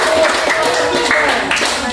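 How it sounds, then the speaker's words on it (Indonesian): A class applauds in a school classroom after a group presentation on environmental issues. The clapping is dense and steady for about two seconds, with voices mixed underneath. "oke tepuk tangan"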